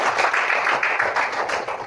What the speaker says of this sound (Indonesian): Kita tepuk tangan bersama.